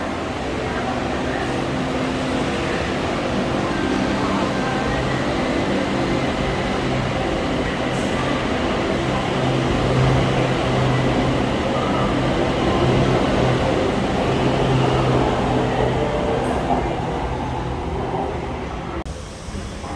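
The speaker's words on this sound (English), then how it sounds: "Just too late to catch the train" Train at a Bangkok rail station, a continuous low rumble and hum of rolling stock with steady broadband noise that swells slightly mid-way, then cuts off sharply at the end.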